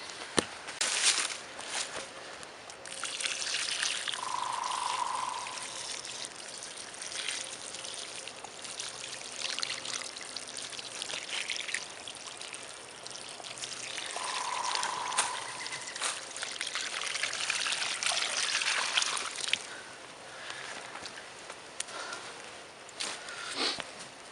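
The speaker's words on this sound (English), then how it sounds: "I'm going to go fill that bag up again one more time and dump one more bag of water on it." Water dumped from a bag onto dirt at a tarp campsite, a sustained pouring, splashing rush lasting many seconds, loud and close, with no talking.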